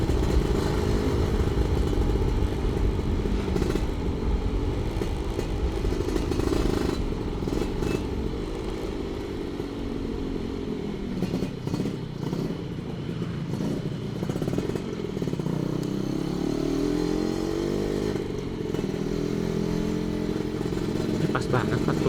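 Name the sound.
Suzuki Satria two-stroke motorcycle riding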